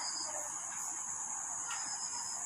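A cricket chirps in a frosty winter evening with a continuous high, shrill trill that holds steady throughout, loud and close, with no other sounds.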